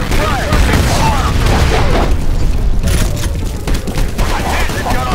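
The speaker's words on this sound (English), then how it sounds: "Grenade out." A grenade goes off amid heavy gunfire during a multiplayer match of the video game F.E.A.R., with dense, loud bursts of shots and booming blasts throughout.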